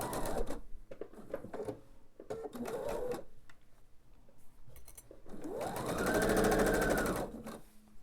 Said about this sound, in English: Now I'm going to sew the length of this seam.